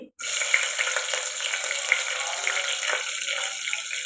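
Green chilies and cumin sizzle in hot oil in a pressure cooker, a steady loud hiss that starts abruptly and holds evenly with no talking.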